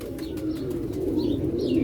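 Pigeons coo in a steady low murmur close by, with a couple of faint higher chirps over the top in this short stretch.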